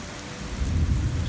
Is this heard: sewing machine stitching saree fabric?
no